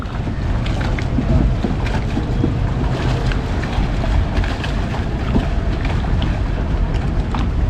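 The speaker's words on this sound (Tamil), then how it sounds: "போட் ஆடுதுன்ட்டு பாருங்க" A boat sways on choppy water, with steady splashing and sloshing under strong wind buffeting the microphone, loud and constant.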